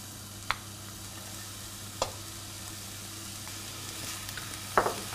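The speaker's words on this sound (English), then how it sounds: "I'll fry the onions for 2 minutes over medium-high heat" Finely chopped onions sizzling in oil in a pot over medium-high heat, a steady quiet frying hiss broken by a few sharp pops and a brief stirring scrape near the end.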